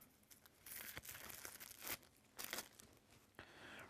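Plastic wrapping on a deck of playing cards is torn and crinkled open, several bursts of close, crackly rustling with short pauses, quiet and without talk.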